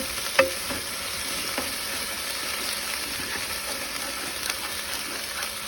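Chicken fajita vegetables with onions sauté in a hot pan, a steady close sizzle with a few sharp scrapes and clicks of a utensil stirring through them.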